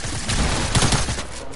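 SMG gunfire in a video game, a fast rattling burst of shots, loud and close, with clustered pops in the middle of a brief noisy stretch.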